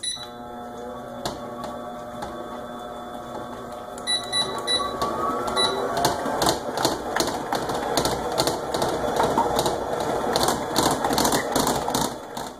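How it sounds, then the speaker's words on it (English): An electric mixer runs on high through white cake batter, with a constant motor hum and a rapid, rattling clatter that grows louder and busier as it goes. "we're going to set the mixer on high for 10 more minutes and let it mix all together"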